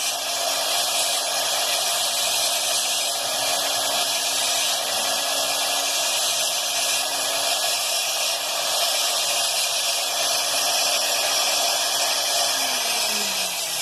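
A rotary tool grinds an Aguascalientes mineral stone while it is carved and shaped, a loud constant high whine with a steady hum that drops slightly in pitch near the end.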